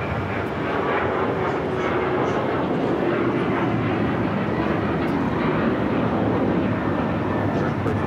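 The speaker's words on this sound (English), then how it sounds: "This is a flight coming in from San Jose, Costa Rica. United Airlines flight 1553 is 737 MAX 8." A United Airlines Boeing 737 MAX 8 arriving at LAX from San Jose, Costa Rica produces a continuous loud jet roar that swells slightly toward the end, steady and unbroken, with no talking heard.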